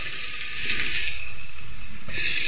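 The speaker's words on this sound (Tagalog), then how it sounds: "dahil mainit na ang kawali at ang mantika, ito yung ating bawang at sibuyas na igisa" Garlic and onion sauté in hot oil in a pan, a loud, close, continuous hiss and sizzle that swells slightly after the start and holds steady, with no talking.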